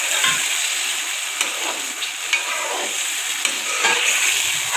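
Chicken fries in a pan for spicy chicken pulao: a continuous close sizzle with intermittent scraping clicks from stirring and no voices.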